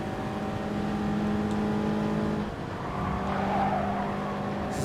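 Race car engine in Gran Turismo Sport during an FIA Gr.4 race at Sainte-Croix in traffic, a steady droning engine note with a brief dip midway and faint tire noise, no talk.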